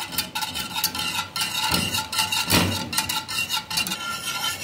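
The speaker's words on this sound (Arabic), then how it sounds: "مستمرين طبعا في التقليب لغاية لما يغلي" A spoon stirs caramel custard powder and milk in a pot on the stove, giving soft scraping strokes and light metallic clinks in an irregular rhythm, close and moderately quiet.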